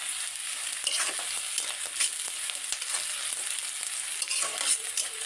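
Whole cumin seeds fry in hot oil with a dense, steady crackle and sizzle full of small pops, close and continuous, with no voices.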